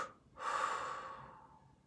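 A single slow, deep exhale during a guided breathing exercise, a soft breathy rush close to the mic that swells quickly and fades away over about a second and a half.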